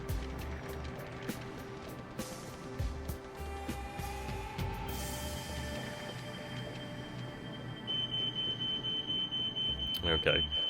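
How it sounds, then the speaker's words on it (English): A household fire alarm beeps in a fast, repeating high tone in the background during the last few seconds, faint beneath the louder sound of a computer war game. "That would be my family setting off the bloody fire alarms."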